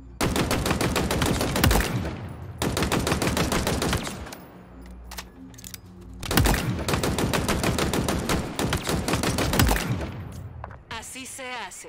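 In Halo Infinite, rapid automatic gunfire hits targets in long loud bursts, broken by a short quieter gap with a low hum, then another sustained volley that ends in a brief trailing sound.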